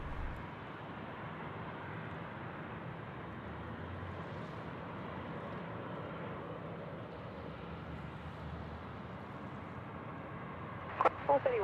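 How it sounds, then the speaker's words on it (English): A Jetstar Boeing 787-800 arriving from Ho Chi Minh lands at Sydney Airport with a distant, steady jet roar that holds evenly throughout, with a brief clattering burst near the end. "Next in is Jetstar 62 787-800 coming in from Ho Chi Minh"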